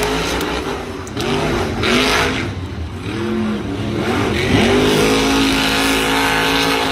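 Monster trucks racing at a Monster Jam event in Salinas, 2019, their big engines roaring and revving loudly and continuously in the arena with rising and falling pitch as they accelerate.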